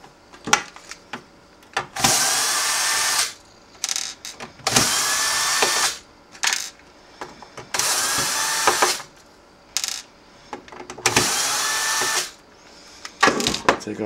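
A power screwdriver takes screws out of an MPC 2000XL sampler in five whirring runs of about one to two seconds each. Each run is loud and close, with clicks and handling noise in the pauses.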